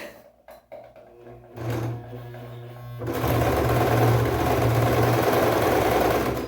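A domestic sewing machine stitches knit fabric, starting with short bursts and then running in a loud, steady, fast mechanical whir close by.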